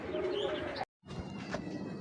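Racing pigeons coo close by in soft, throaty calls, then fall silent for a brief gap before more cooing and rustling resume.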